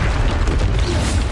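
A Stupefy spell cast in the game Hogwarts Legacy gives a dense, steady burst of magical energy with a heavy low rumble, loud and sustained for just over a second, with no talk.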